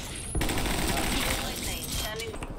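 Rapid automatic gunfire from a gun in the video game Grav rattles continuously in dense bursts, loud and close, with game effects and talk mixed in.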